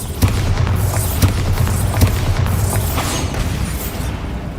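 A Bombarda spell blast in Hogwarts Legacy sets off a deep, rumbling boom, followed by repeated booming thuds and crackling debris under a steady low roar.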